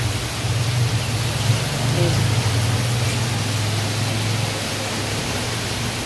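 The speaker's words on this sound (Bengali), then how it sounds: "চলো সকাল সকাল বৃষ্টি স্টার্ট" Morning rain begins to fall as a continuous broadband wash of noise, fairly loud and even, over a low steady hum in the background.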